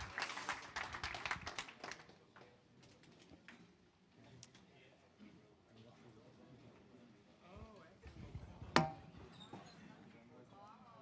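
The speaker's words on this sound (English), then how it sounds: "can we give another big round of applause to Vitalik for coming out?" A short burst of applause from a conference audience at a summit stage fades quickly, followed by quieter room noise and a voice speaking.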